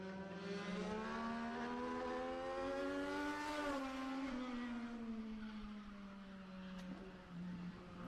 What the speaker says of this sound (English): Tires are squealing as he comes out of turn number 2